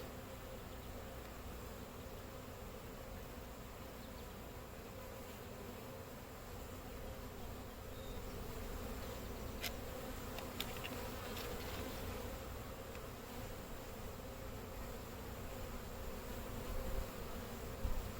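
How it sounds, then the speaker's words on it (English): Honey bees buzz in an open hive, a soft, even, continuous hum that holds steady throughout with a few faint clicks and handling noises near the end. "there's a lot of bees in here"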